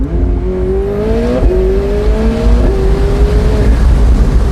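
McLaren Artura hybrid supercar with 740 horsepower accelerating hard at full throttle, loud and close from inside, engine note climbing through several quick upshifts.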